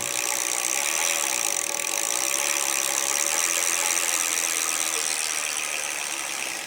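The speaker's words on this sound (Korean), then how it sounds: "페달를 천천히 돌려도 네. 모터가 잘 작동됩니다." A 48V Voltmonster MB20 electric bicycle motor runs while the pedals turn slowly: a steady, close mechanical whine with faint ratcheting and gear hum, easing off at the very end.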